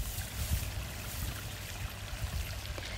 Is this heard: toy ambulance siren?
no